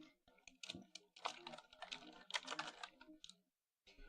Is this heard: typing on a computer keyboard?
yes